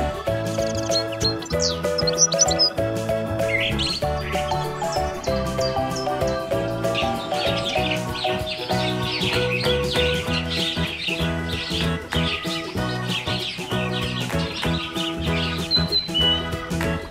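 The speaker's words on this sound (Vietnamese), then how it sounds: "Con chim." Repeated bird chirps and tweets ring out over a busy, continuous backing track in a children's animal-identification sequence, the calls scattered throughout at a moderate, steady level.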